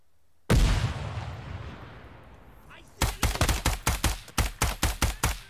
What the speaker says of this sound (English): Grenade up!